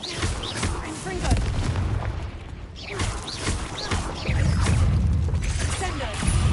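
Confringo fire spells explode in a Hogwarts Legacy battle, heavy booming blasts and crackling impacts going off repeatedly in a dense, loud stretch of combat noise.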